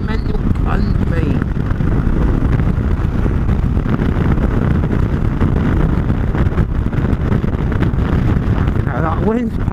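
Strong gusty wind buffets the microphone outdoors on muddy ground, a constant loud low roar and rumble throughout, with a voice faintly audible beneath it.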